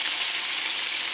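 Fish frying in a pan, heard as a steady, even, hissing sizzle, close and alone with no talk.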